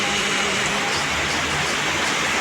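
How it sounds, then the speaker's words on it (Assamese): Heavy rain pours outside a welding workshop, a loud, dense and unbroken roar that fills the whole stretch with no voices. "ডাঙৰকৈ তামাম বৰষুণ দিছে"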